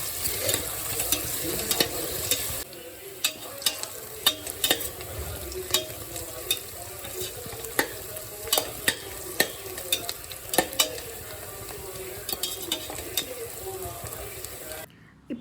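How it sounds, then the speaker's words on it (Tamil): Onions deep frying in oil for a South Indian home-style mutton biryani, a faint continuous bubbling sizzle with frequent sharp clicks and scrapes of stirring, a voice talking over parts of it. "இப்போ ஆனியனை வந்து நம்ம டீப் ஃப்ரை பண்ண போகிறோம்"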